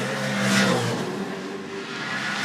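A Supercars race car engine on the Surfers Paradise street circuit during a Sunday race, a steady loud revving roar that swells briefly then holds, no talk.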